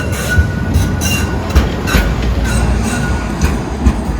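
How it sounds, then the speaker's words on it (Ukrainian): A tram in Lviv rumbles past on its rails, with a steady low roar, rhythmic clicks over the track joints and a faint high squeal. "Трамвай."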